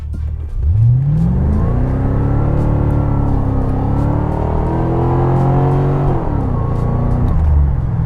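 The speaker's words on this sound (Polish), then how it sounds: "przed nami test przyspieszenia" A Chevrolet Corvette C4 accelerates hard in a full-throttle run, its engine climbing through several gears with rising pitch and brief dips at each shift, loud and close without talk.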